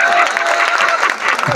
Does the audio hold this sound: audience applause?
yes